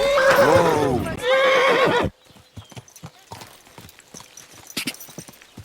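A horse in the video game Kingdom Come: Deliverance II whinnies loudly up close, then hooves clip-clop in an uneven rhythm at moderate volume.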